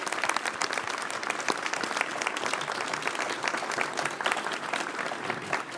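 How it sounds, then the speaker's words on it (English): A committee hearing room breaks into a full round of applause for a departing colleague, senators and guests clapping loudly and steadily for nearly six seconds with no talking over it. "let's give Gabrielle a round of applause and appreciation"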